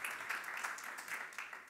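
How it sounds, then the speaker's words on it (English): A round of applause from the audience at a conference on EU forest-based industries, continuous, fairly loud clapping from many hands throughout. "a round of applause for the people on Link and on"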